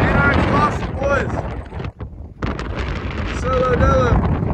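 Heavy wind buffets the microphone in a continuous roaring rush, with a brief lull midway and some vehicle engine tones under it.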